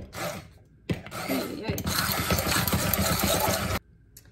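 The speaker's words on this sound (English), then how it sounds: "I'm gonna blend this." Blender whirring through taco ingredients with beef flour and Himalayan pink salt, a loud grinding motor roar that starts abruptly, runs for about three seconds and cuts off, with brief clatter and sounds from the person before it.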